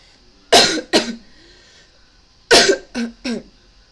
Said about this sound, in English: My coughing isn't getting any better.